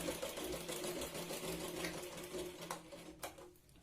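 A sewing machine hums continuously while stitching a folded strip on a katori blouse, a steady, fairly quiet mechanical whir throughout with a brief tap near the end.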